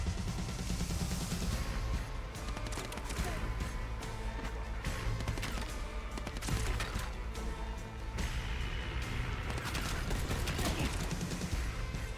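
Shotgun blasts in Dying Light: The Beast, repeated loud bursts of gunfire amid busy combat noise, with a player talking over the action.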